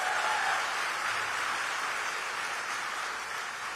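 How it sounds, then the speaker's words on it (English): Steady broadband clapping from an audience at a political speech, sustained and fairly even throughout, with no voices over it. "Let's clap for that,"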